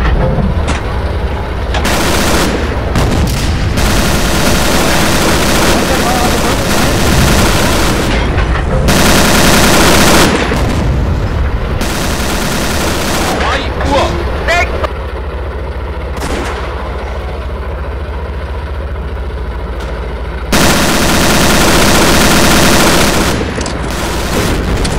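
Tank cannon blasts and machine-gun bursts from the WWII tank game Steel Fury: Kharkov 1942, loud and dense, with heavy booms and rattling fire in several long volleys separated by short lulls.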